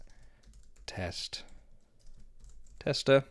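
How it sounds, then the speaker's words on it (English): Soft keyboard clicks sound faintly between spoken words while account details are typed into a computer. "I'm going to type in some information"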